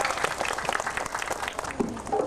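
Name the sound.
audience applause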